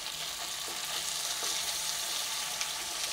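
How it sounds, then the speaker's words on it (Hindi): Stuffed okra (bharva bhindi) being turned over in hot oil, a steady close sizzle with faint scrapes of stirring running continuously without talk. "अभी हम तकरीबन 2 मिनट के लिए उलट पलट कर लेंगे भिंडियों को, ताकि भिंडियों में चारों तरफ से अच्छे से तेल कोट हो जाए।"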